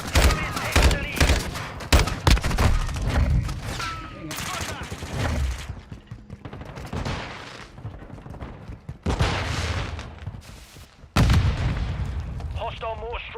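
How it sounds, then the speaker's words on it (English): Mortar strike explosions in the video game Call of Duty: Mobile, heavy booms and crackling blasts in irregular bursts, loud and close, with lulls between impacts and a final sharp blast near the end. "Hostile mortar strike in the area."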